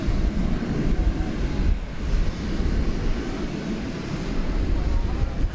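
A FedEx Boeing 747-8 cargo jet rumbles at DFW Airport, a continuous low, heavy engine roar with wind buffeting, steady and fairly close throughout.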